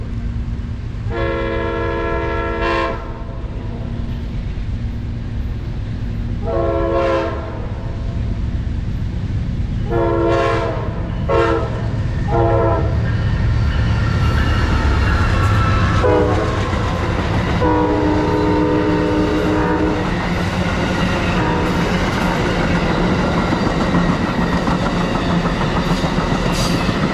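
Amtrak passenger train passing near tie replacement maintenance-of-way equipment in Plant City, Florida, sounding a loud multi-tone horn in several long and short blasts over steady wheel rumble and rail clatter that swells as it goes by.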